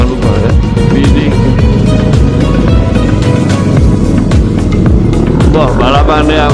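Motorcycles speed past at high revs on a Sunday-morning group ride with Kawasaki Ninja and Honda CBR 1000 bikes racing a Yamaha. A loud, continuous engine roar rises and falls as they pass, with voices over it.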